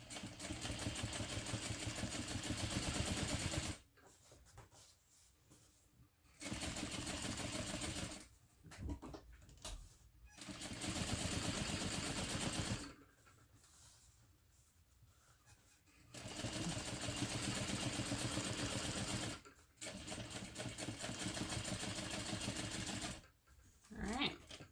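A sewing machine top-stitching through thick layers of fabric runs in several steady, whirring bursts of a few seconds each, with short quiet pauses between them while the fabric is repositioned.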